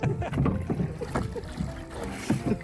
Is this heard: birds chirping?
no